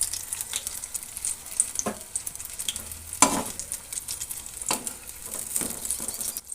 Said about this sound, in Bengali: এক দফা আমি ভেজে এভাবে তুলে নিয়েছি থালায়, এবার বাকিটাও ভেজে নেব।